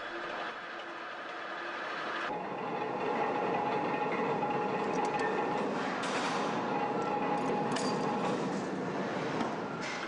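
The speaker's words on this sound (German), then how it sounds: "Ein riesiger Schrauber löst die Motorspannschrauben." A large power wrench loosens the traction motor bolts on an old S-Bahn train in a rail workshop, giving a steady loud mechanical whirring and grinding that builds after a couple of seconds and carries on without pause.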